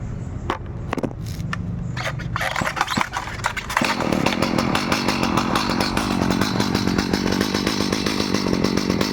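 A Stihl hedge trimmer's small two-stroke engine fires up after a few pull-start tugs and clattering handling, then settles into a loud, continuous buzzing run close by.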